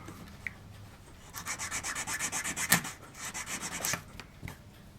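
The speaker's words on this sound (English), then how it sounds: "Oh, my sanding stick's just about had it, hasn't it?" Worn sanding stick rubbed back and forth on a small model ship part, a quick run of even rasping strokes that swells in the middle, then a few scattered scrapes, close and quiet.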